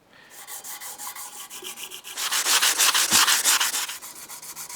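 A part of a stainless and titanium utility knife is sanded by hand in quick back-and-forth strokes, a close, raspy rubbing rhythm that grows louder and more forceful partway through.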